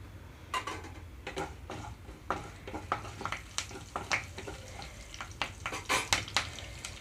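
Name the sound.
curry leaves and chillies sizzling in oil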